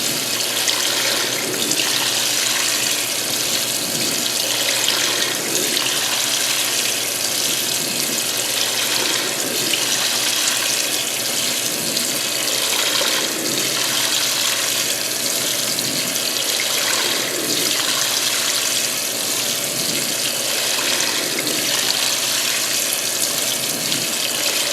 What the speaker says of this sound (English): Pretty much just tap cold water coming out.